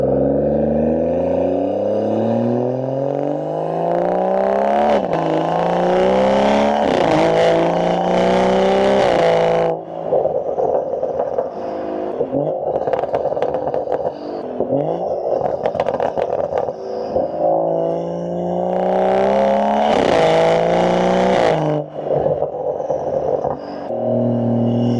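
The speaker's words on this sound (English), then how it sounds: "it's going to get some really good sound of the exhaust as we're driving" A BMW 540i with a custom exhaust drones and rises through the gears while driving, with repeated climbing engine notes and sharp shifts, loud and close throughout.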